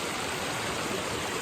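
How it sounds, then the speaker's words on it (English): Running water pours down an intermittent creek on a cold, damp trail, a steady broadband rush close by with no breaks or voices. "This intermittent creek is killing it right now."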